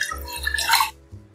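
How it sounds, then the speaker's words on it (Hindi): Water poured from a glass into an open cooking pot, a short splashing gush lasting under a second that tapers off, close and fairly loud, with no talk. "खुले बर्तन में 4 गिलास पानी लेंगे"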